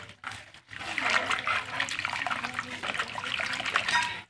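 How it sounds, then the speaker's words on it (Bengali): Running water splashing over leafy greens as they are washed, a steady close gush with rustling and sloshing after a brief quiet start. "তারপরে শাকগুলো একটু ভালো করে ধুয়ে"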